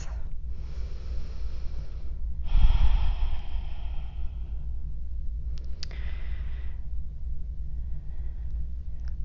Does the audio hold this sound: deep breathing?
yes